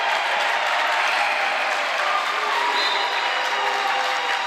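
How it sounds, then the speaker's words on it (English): A high school basketball crowd in the Geneseo home gym applauds, a dense, steady wash of clapping that holds at an even loud level throughout with faint cheering mixed in. "Geneseo crowd likes it."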